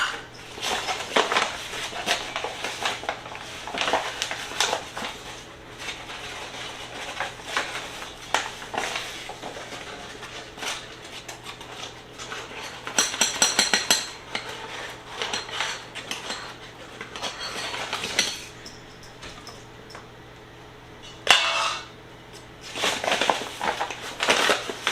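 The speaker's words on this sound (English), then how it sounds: "I'm gonna stir the flour, salt, baking powder, baking soda, and cinnamon together in a large bowl" Spoon scraping and clinking in a large bowl while flour, salt, baking powder, baking soda and cinnamon are stirred for zucchini bread, a steady soft rasping with irregular louder clatters up close.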